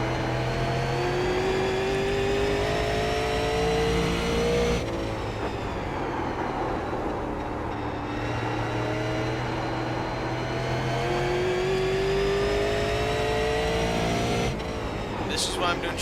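A super late model race car engine droning steadily during a race, held at constant high revs with a short shift or lift twice, loud and continuous while a voice talks over it.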